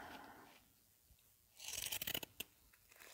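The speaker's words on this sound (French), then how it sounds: "je vais peut-être utiliser mes ciseaux crantés" Several crisp, rapid snips of pinking shears cutting through fabric close by, after a moment of quiet handling noise.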